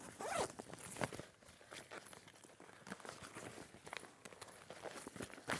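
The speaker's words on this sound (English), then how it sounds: "Look, they have a double zip. So I'll just undo that." A double zip on a sturdy-handled fabric sewing bag is undone, with repeated rasping zipper pulls running in quick bursts throughout, close and fairly loud.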